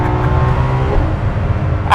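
A Ferrari LaFerrari engine hums loudly and close in a brief sustained rev, a steady tonal drone with a slight pitch dip near the middle, no speech.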